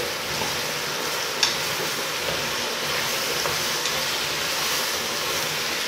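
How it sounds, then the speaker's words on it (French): An electric kettle heating water in a home kitchen gives a steady, broad hiss and rumble with a faint click early on, heard close with no voices. "Le bruit que vous entendez, en fait, c'est ma bouilloire."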